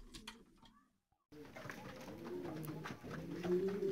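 Racing pigeons arriving at the loft after a race, soft cooing and murmuring from several birds close by, with some rustling and a voice talking quietly underneath.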